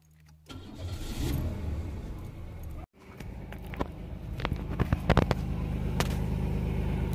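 Car engine cranks, catches and settles into a close idle, then is blipped with several short sharp revs over a steady rumble, with no talk.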